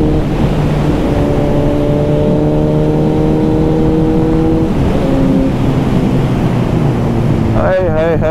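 A Kawasaki Z900 superbike engine hums steadily at a held pitch, then shifts through a few pitch steps as the revs change. The loud, close engine note runs throughout.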